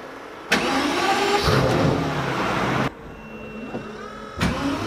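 A Pagani Huayra engine cranks and fires after a turn of the key, then settles into a loud rumbling idle with brief shifts in tone, close by.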